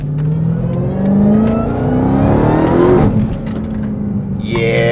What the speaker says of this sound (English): Let me see if I can hear the pops and burbles.